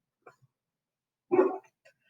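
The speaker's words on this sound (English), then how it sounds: "It's my dog, Thena." A pet dog named Thena barks in a single short, loud burst indoors, preceded by a faint yip and followed by a soft trailing whimper, with no talk over it.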